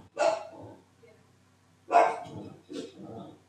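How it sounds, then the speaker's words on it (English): A dog barks in three short, loud bursts, near and spaced apart, with a brief pause between the first and second. "My dog."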